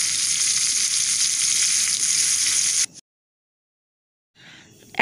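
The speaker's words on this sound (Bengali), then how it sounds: "এইভাবে বাকি যে চিংড়ি মাছগুলো আছে সেইগুলোকেও আমি ভেজে নিচ্ছি।" Prawns frying in a pan, a loud steady sizzle for about three seconds, then a sudden break into near silence before bubbling frying sounds return near the end.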